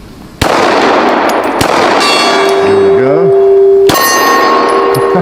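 Glock pistol shots ring against a steel gong, a sharp crack followed by a long metallic ringing tone that sustains and wavers, then a second strike renews the ring; someone speaks briefly.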